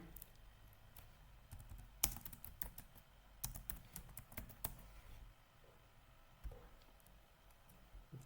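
Typing on a computer keyboard gives soft, quiet irregular key clicks in short bursts and pauses, with a few sharper taps standing out.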